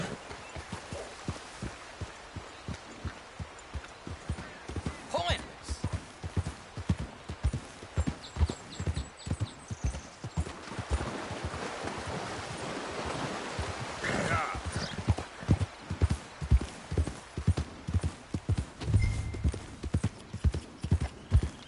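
A horse's hooves clip-clop steadily while ridden in Red Dead Redemption 2, a regular galloping or trotting beat that runs throughout, with an occasional whinny and some voice in the background.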